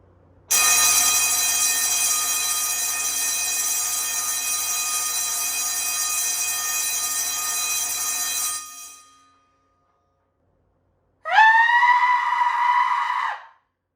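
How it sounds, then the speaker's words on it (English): A loud GS fire alarm bell rings continuously for about eight seconds, then cuts off; after a short silence, a brief harsh burst of sound follows. "here goes the GS bell"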